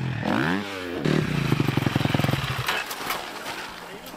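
A trial motorcycle at a riding training session passes close by, its engine revving in short rising bursts with a rapid putting throttle rhythm, then fading as it moves off.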